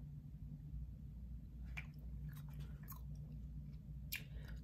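Soft, close gum chewing with small wet squishes and clicks in a quiet room, brief sticky smacks scattered over a low steady background hum, no talking.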